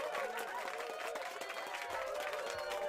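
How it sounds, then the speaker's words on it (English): A small audience clapping and cheering, a fairly faint, steady patter of applause with crowd voices mixed in. "Give me another round of applause, cause that was good."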